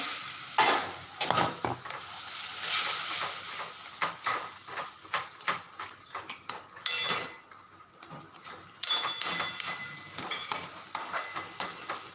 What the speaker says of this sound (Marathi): त्यात थोडंसं असं पाणी घालायचं